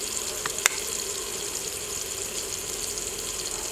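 Tomato and spice paste with salt, red chilli powder, turmeric and ground cumin frying in a pan, giving a steady, moderately loud sizzle throughout with one brief sharp clink early on.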